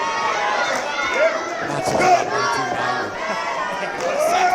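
A live wrestling crowd at an independent CCW show reacts disapprovingly to a wrestler's attire, with loud, sustained shouting and jeering throughout, and a commentator talking over the noise.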